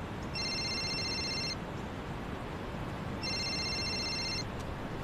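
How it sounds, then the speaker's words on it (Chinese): A telephone rings in two electronic bursts, each lasting about a second, separated by a short pause, heard faintly over low steady background noise with no one speaking. "峰哥电话。"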